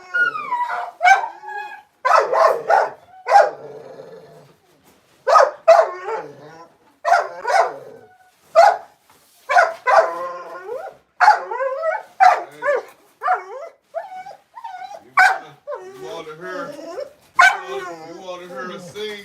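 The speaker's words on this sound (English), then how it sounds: "You done heard your first singing dog." A dog sings, howling in drawn-out wavering pitches mixed with yips and short barks, loud and close, in repeated bursts across the whole stretch.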